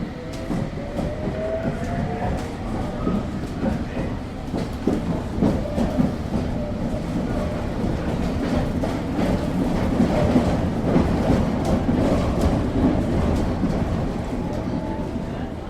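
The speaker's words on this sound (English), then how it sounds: "We're going to imagine we're taking this underground train to the next location on our adventure." An underground metro train rumbles along steadily, wheels clacking in a rough rhythm and a faint whine rising over the constant loud roar.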